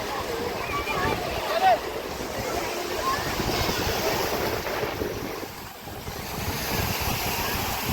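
Sea surf rolls onto a beach in a constant broad wash, mixed with gusty wind buffeting the microphone, while people talk nearby.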